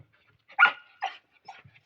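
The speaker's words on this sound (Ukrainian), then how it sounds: "Чого ти гавкаєш, а?" A dog on a small household farm gives a few short, sharp barks and yips, one louder bark followed by softer ones spaced apart, with quiet gaps in between.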